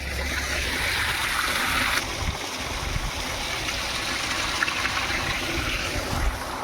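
Water rushing through a full pipeline into a tank at night during valve fitting, a continuous even gush with a brief dip partway through, heard close and alone.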